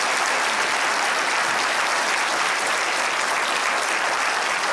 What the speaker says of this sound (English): So if you guys could give him a round of applause.